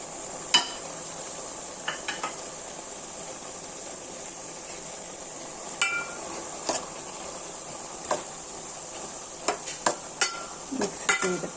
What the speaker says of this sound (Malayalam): എന്നിട്ട് ഇതിനകത്ത് മിക്സ് ചെയ്യാം.